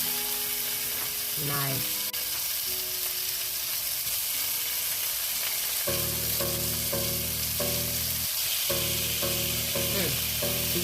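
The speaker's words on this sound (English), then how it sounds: "we're gonna start off by putting a couple thick cut slices of bacon in our pan" Thick-cut bacon slices sizzle steadily in a pan, a loud continuous frying hiss running throughout with brief clinks and a short spoken remark over it.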